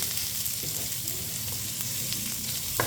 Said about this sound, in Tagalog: Gisa-gisa muna natin siya dyan